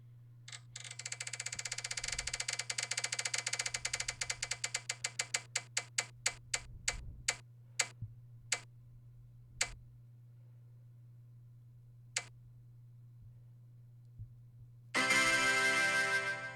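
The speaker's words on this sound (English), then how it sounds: "we might as well spin the wheel of pain just to see what happens" A spinning prize wheel called the wheel of pain ticks rapidly at first, its clicks slowing and spacing out until the last few isolated ticks, with a steady hum underneath and a brief burst of noise at the end.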